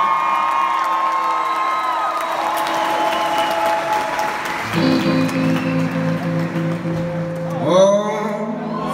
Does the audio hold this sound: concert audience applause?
yes